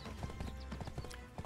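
Horse hooves clip-clop in a steady, brisk rhythm in Black Desert Online, quiet but clear with no other sound over them.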